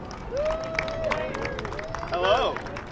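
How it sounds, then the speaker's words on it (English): Audience at an Earth celebration event in New York City applauds a speaker, a steady moderate clapping with light crowd murmur and a voice speaking over it. "Let's give a nice round of applause for John."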